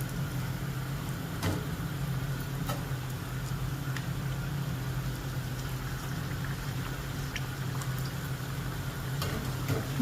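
Paneer cutlets fry in hot oil over medium heat, giving a steady, even crackling hiss with a few scattered pops and ticks, moderately quiet and close.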